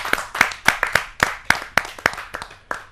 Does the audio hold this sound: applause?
yes